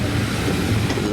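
Heritage steam train running on the Bluebell Railway, a steady close rumble of carriages and wheels on track with a dense, continuous low roar throughout.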